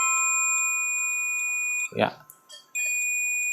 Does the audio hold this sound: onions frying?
no